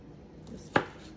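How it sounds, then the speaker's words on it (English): A single crisp knife chop through washed green onions on a cutting board, one sharp close tap in an otherwise quiet moment. "I'm going to slice my green onions, reserving half a cup"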